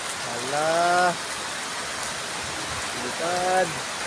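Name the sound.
heavy rain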